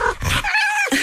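A dog vocalizes nearby in a short burst, a quick yelp followed by a drawn-out whining bark, loud and alone with no talking.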